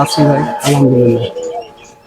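Foreign pigeons and doves at a bird farm give two deep, drawn-out coos close by, the second following shortly after the first, with a voice mixed in.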